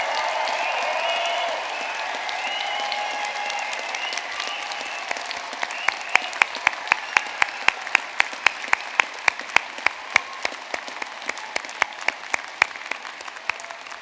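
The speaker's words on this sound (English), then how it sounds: "giving one last and final round of applause for our class of 24" Graduation ceremony audience applause in a Belfast university hall, opening as a loud, dense wave of clapping that thins over the following seconds, leaving a sparser patter with individual sharp claps standing out near the end.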